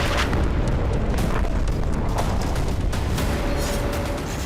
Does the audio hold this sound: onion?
no